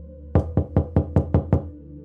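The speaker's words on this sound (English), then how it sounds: "They knock again." Knocking on a wooden cottage door: seven firm, evenly spaced raps in quick succession, close and loud against a quiet background, with no voices.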